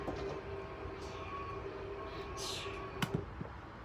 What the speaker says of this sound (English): You'll hear the clutch. That noise there is normal operation.